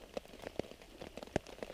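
Heavy rain patters onto a makeshift shelter at a wild camp in Kielder, with distinct heavy drops landing irregularly over a soft, steady background hiss.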